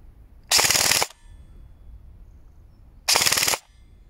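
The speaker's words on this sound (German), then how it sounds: "Wir schießen jetzt hier mit 11 Einsern." Two bursts of rapid full-auto fire from an Evolution Ghost EMR L airsoft rifle, each about half a second long and separated by a pause of roughly two seconds, sound close and crisp against a quiet background.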